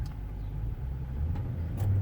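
A 2019 Nissan Armada is shifted into drive and rolls away, a low engine rumble swelling slightly as it pulls off, close and without talk.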